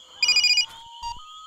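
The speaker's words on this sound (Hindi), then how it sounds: "तेरा फोन है." A mobile phone ringtone chirps in a quick burst of bright warbling beeps, loud and close, followed by a thin sustained tone and a couple of softer blips.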